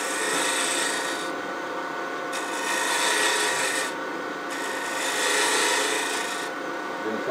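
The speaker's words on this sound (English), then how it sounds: "I'm going to use my detail tool, 3/8 inch detail gouge," Woodturning with a 3/8 inch detail gouge rolling over a bead on a spinning wood workpiece, a continuous close rasping scrape that swells and eases in several passes, with no talk.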